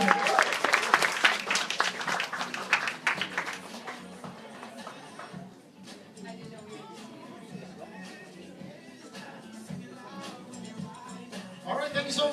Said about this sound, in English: Let's give him a big round of applause once again for an inspiring message.